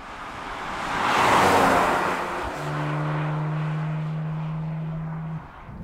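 A Porsche 718 Cayman GT4 RS drives through town, its engine a steady near rumble with a rising swell of road and wind noise, then a long sustained low drone as it cruises on without talk.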